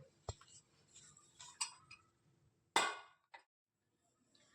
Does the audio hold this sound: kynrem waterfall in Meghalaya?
no